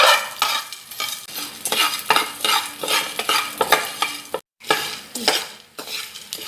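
Edible gum fries in a spoonful of ghee, crackling and sizzling as a spoon stirs and scrapes it around the pan in quick repeated strokes, with one brief silent break near the end.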